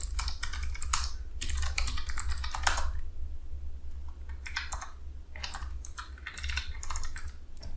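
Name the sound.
typing a terminal command on a computer keyboard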